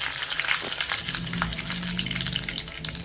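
Mustard seeds, urad dal and dried red chillies sizzling and crackling in hot oil, a steady close frying hiss with small popping throughout.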